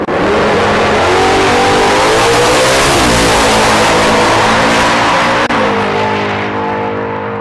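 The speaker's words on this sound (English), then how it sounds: "Reisner with the 1970 Ford Mustang Pro-Charged Coyote power under the hood." A 1970 Ford Mustang with a Pro-Charged Coyote V8 roars loud and close on a drag strip run, holding a sustained high-revving engine note with rising pitch and a brief shift-like dip before the sound carries on.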